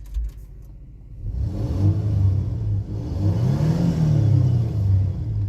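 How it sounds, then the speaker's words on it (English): A 2002 Toyota 4Runner SR5 4x4 with 197k miles revs up loudly after a brief quiet moment, its engine climbing through two sustained surges of rising, rumbling drone with no talk over it. "Let's rev her up a little bit."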